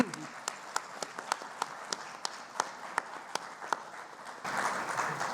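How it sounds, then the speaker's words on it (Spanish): Sparse, evenly spaced claps from a few people greet two guests at a panel session on technology and access to case law, swelling into a brief fuller burst of applause at the end, with faint room sound and possible talk beneath. "Me voy a permitir un fuerte aplauso para ellos, por favor"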